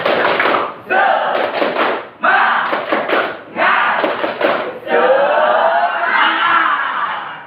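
A school class performs a rhythmic group clap in several quick bursts of sharp, patterned hand claps, followed by many children's voices shouting together.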